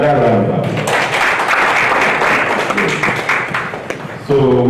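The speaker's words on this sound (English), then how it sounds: "Another round of applause." Audience applause at a regional workshop, a steady wash of clapping filling the room for several seconds, with a voice speaking over it at the start and end.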